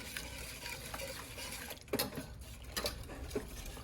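Zucchini fritters fry quietly in a pan, a soft sizzle under occasional light scrapes and clinks of a utensil.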